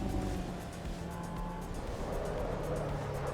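A race car in Assetto Corsa Evo drives through a slow oversteer slide, its engine droning steadily with a faint tire scrub beneath, close and continuous.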